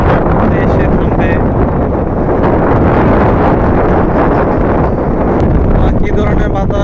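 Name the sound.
strong wind before a storm, wind noise on the microphone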